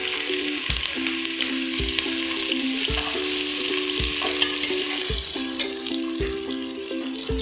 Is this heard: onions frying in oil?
yes